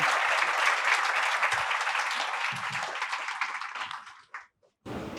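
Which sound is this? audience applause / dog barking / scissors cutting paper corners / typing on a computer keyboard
audience applause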